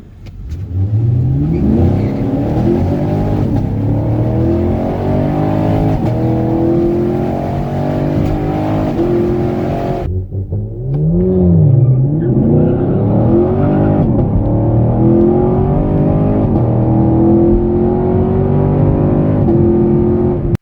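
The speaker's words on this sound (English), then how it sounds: "This is my 2018 Camaro SS." A 2018 Chevrolet Camaro SS V8, driven to work and to the drag strip, revs loudly and repeatedly, the engine note climbing and falling in strong sweeps, with a brief dip before it winds up again and holds a high, sustained roar.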